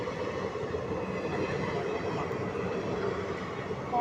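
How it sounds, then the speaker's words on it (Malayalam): Shoranur–Nilambur express train passing the Pattikkad railway crossing, a loud, steady broadband rumble and roar that holds continuously from start to finish with no pauses. "ഇത് Shoranur Nilambur road to Nilambur to Shoranur എക്സ്പ്രസ്സാ"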